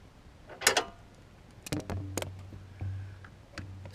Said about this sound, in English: I'm using an 8mm deep socket with a long wobbly extension to get down into these